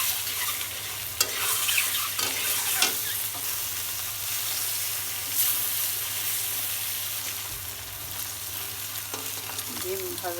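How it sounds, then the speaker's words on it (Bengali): Eggs frying in hot oil in a wok, a steady loud sizzle with scattered crackles and a few scraping stirs, close and continuous, no voices. "ডিম ভাজার জন্য এবার তেল দিয়ে দেবো কড়াইতে"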